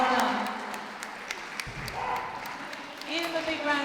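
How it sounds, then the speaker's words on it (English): At a dog show, an audience applauds the hound group placings. Scattered clapping runs under a host's amplified voice, with sharp individual claps standing out. "Give them a big round of applause,"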